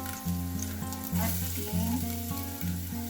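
Garlic and onion sizzle steadily in hot cooking oil as the base for pork sinigang, a close, continuous frying hiss under a steady background hum, with a brief spoken word at one point.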